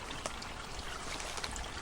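A small spring stream runs through a culvert under a railway, making a faint, steady trickling and pouring wash with occasional small splashes.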